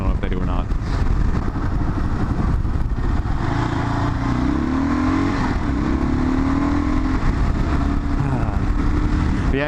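A 2005 Kawasaki KLR650 adventure motorcycle's single-cylinder engine runs steadily loud and close, with rising and falling rev tones throughout and voices talking over it.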